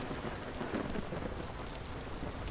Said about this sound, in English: I'm guessing that was lightning that struck there